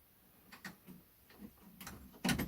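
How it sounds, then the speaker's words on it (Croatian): A key being worked into a padlock in total darkness at a spring tunnel site, heard as a few faint metallic ticks and scrapes followed by a louder clack near the end, close and quiet. "Evo ga, ušao je u katanac."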